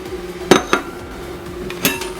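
Ingredients for bacon brownie batter, including cocoa powder, salt, baking powder and vanilla, being stirred in a bowl, with three sharp clinks of utensil against the bowl, two close together and one a moment later.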